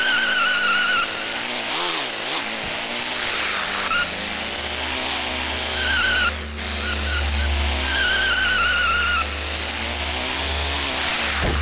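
Remote-control car Evil Weasel in the racing game Re-Volt, its high buzzing motor whining continuously and rising and falling in pitch as it skids through turns, loud and steady with no talking.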